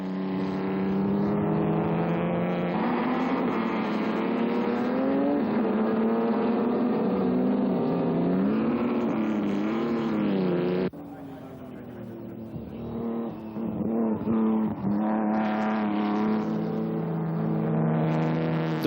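Vintage ERA racing cars, including the R4A, rev loudly as they near the checkered flag. Engine notes rise and fall in pitch, ease off briefly partway through, then build again, with a commentator speaking over them.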